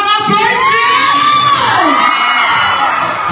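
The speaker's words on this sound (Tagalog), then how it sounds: "Isang hiyawan mga virgin!" A concert crowd at a show in Toronto screams and cheers loudly and continuously, high shrieks and whoops sweeping up and down over a dense roar of voices.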